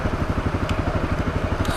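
A Honda CRF250L motorcycle riding in heavy rain, its engine giving a rapid, even, low thumping pulse, close and continuous beneath a hissing wash of noise.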